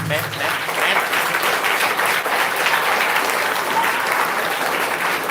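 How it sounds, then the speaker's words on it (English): Sustained, loud applause from a memorial lecture audience, a thick even wash of many hands clapping with no pause across the whole stretch. "A huge round of applause."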